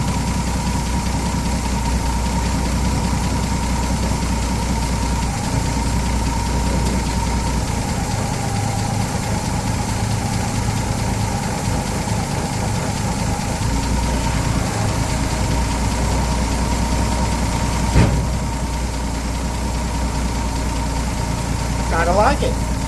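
A scooter engine idles in gear with a cheap $74 aftermarket carburetor, a steady low rumble that runs throughout with a slight knocking texture. Faint background talk sits underneath.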